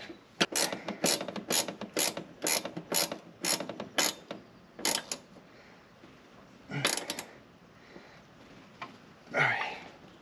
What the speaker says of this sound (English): the bottom one, I'm gonna use a half inch ratcheting box in and do this kind of blind.